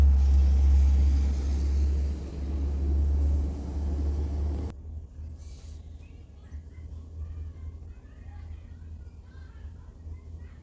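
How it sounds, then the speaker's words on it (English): A Thomas Built HDX school bus leaving a tournament location rumbles loudly past up close, its low engine drone dominating the first half before cutting off into quieter distant traffic and ambience. "There goes one of the first student HDXs."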